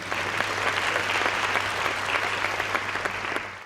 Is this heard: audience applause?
yes